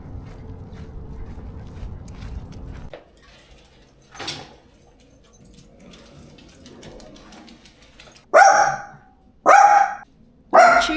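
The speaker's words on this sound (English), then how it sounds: "She's been barking at the cars down below on the street" A dog indoors in a condo gives a few sharp barks at passing cars on the street below, three loud bursts near the end after quieter household noise and a brief earlier sound.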